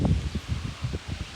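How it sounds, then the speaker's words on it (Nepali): Wind moves through the leaves of a peepal tree near a village, giving soft, irregular rustling puffs that sound close and fairly quiet, with no voices. "हेर्नु त कस्तो हावा चलेछ देख्नुभयो त्यहाँ रुखमा"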